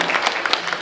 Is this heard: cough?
no